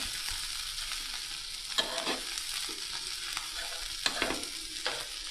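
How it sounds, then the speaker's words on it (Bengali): Vegetable bhaji frying in added oil and being stirred in a pan, a steady close sizzle broken by sharp scraping stirs every second or two, with no voices. "আর একটু অয়েল আমরা এড করে নিয়েছি আরও সুন্দরভাবে ফ্রাই করার জন্য"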